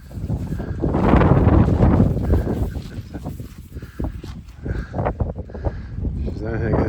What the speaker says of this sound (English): Wind is brutal, man. Wind is just destroying everything.